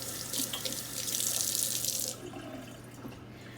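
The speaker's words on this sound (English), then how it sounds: "my hands are very sticky, so I need to just rinse them off" Sticky hands are rinsed under a running kitchen tap, the water splashing steadily and close, then easing off as the flow drops partway through.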